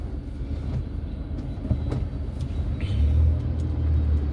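Saturday morning traffic on Golf Course Road in Dwarka, Delhi, rumbles steadily past dumper trucks stopped at a red light, with heavy engines droning low and a deeper rumble swelling toward the end.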